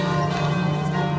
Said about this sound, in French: Qu'est-ce que c'est que ces cloches ?